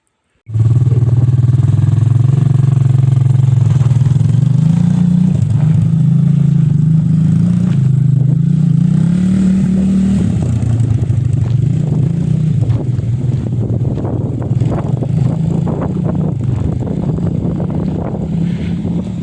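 A Chinese 300cc ATV quad bike engine runs steadily and loudly close by with wind buffeting the microphone, its drone rising and falling as the quad rides over rough ground, with bumps and rattles growing in the second half.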